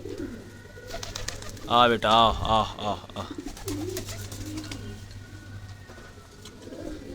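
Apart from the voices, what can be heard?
pigeons cooing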